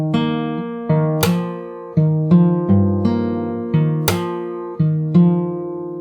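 Fingerstyle guitar picks the chorus part of a song as a sequence of clear plucked notes and chords, each ringing out and decaying before the next. The playing is close and clean, with bright accents on a few strikes and no talking.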